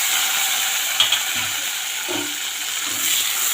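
Chopped vegetables with tomato and torn green chillies are stirred in a hot pan for a fish curry, giving a steady broad sizzle with soft scraping and a few light knocks of the spoon.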